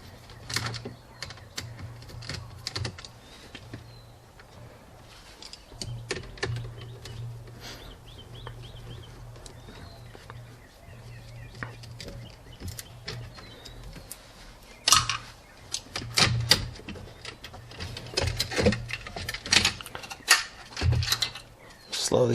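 Screws are backed out of a plastic trim piece in a BMW E46 dashboard, giving small scattered clicks, ticks and light plastic knocks, close up and fairly quiet, with busier clattering toward the end.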